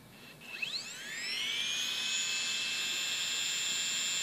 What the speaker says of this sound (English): This is a 5400 RPM hard disk drive motor.